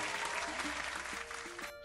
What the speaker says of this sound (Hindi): और हमारे आज के विनर हैं मिस्टर हैरी, और इनके लिए जोरदार तालियां।